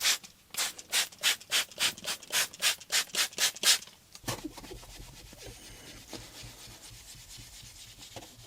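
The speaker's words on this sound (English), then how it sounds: "Let's get this cleaned up, scuff pad, squeegeed" A scuff pad scrubbed back and forth across car window glass before tinting, about a dozen loud, rhythmic rasping strokes that stop abruptly, leaving quiet background noise.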